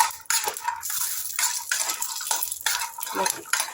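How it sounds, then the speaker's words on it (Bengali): Raw peanuts frying in oil with salt in a pan: a busy rattling crackle and clatter of nuts being stirred and tossed, in short irregular bursts close to the listener. "একটু লাল লাল করে বাদামটা ভেজে নিচ্ছি। চটপট করে শব্দ হচ্ছে"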